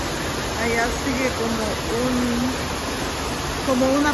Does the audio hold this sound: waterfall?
yes